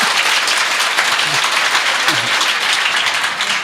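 A studio audience at a Korean political talk show recording claps loudly and steadily throughout, dense applause with a few faint voices mixed underneath.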